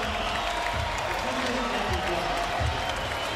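Basketball crowd after a Knicks win over the Detroit Pistons: steady arena applause and crowd noise fill the space, heard under a broadcaster's commentary voice.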